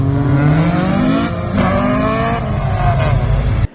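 A Honda Civic EG with a Type R engine swap pulls away from a night-time car meet, its engine revving loud and close with rising pitch through the gears before cutting off abruptly.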